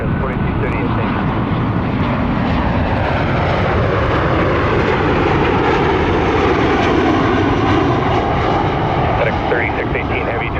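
A cargo jet at Minneapolis-St. Paul International Airport in the early morning: a loud, continuous engine roar heard from nearby, broad and steady from start to end.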